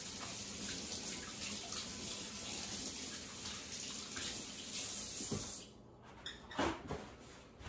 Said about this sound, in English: just rinse my hands one more time